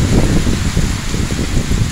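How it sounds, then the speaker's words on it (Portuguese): Heavy rain pours steadily over Jaguaribara near the Castanhão reservoir, a dense and even hiss with a low rumble and no voices. "Muita chuva, graças a Deus."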